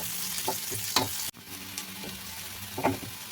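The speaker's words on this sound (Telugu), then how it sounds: "ఇలా బ్రౌన్ కలర్లోకి వచ్చిందాక వేపాలండి." Bitter gourd pieces fry in shallow oil with a steady, close sizzle, broken by a few clattering stirs of a utensil in the pan; no one speaks.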